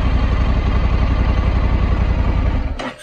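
A Honda Africa Twin motorcycle engine idles with a steady, loud, close low throb that runs evenly for about three seconds and then cuts off abruptly.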